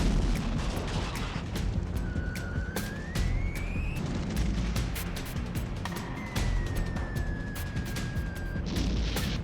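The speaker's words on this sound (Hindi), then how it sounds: "तेज धमाके, आग के गुबार और चारों तरफ अफरा तफरी।" Explosions from an attack on Saratov, Russia: a steady, loud barrage of sharp blasts and rumbling booms fills the whole stretch, with a thin wailing tone rising and falling above it.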